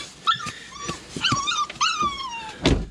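A dog left behind whines and whimpers in several high, rising and falling cries close by, ending with a short louder yip or huff.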